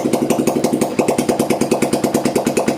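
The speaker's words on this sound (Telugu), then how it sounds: "ఇప్పుడు దీని అనేది కీ అయితే ఆన్ చేస్తాను, బండి అయితే స్టార్ట్ చేస్తాను" A motorbike engine runs close and loud at a steady idle, its rapid even thumping pulses repeating without pause and no talk over it.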